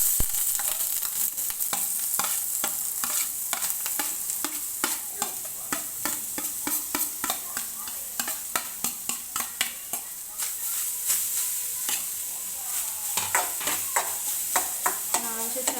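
Beetroot thoran vegetables with onion and green chilli are stirred into sizzling oil with popped mustard seeds, a steady sizzle under repeated sharp scrapes and clicks of a spoon against the pan, close and fairly loud throughout.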